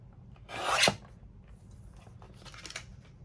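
Scissors snip through a paper tag at its punched hole in one short, close cut, followed by faint rustling of the paper.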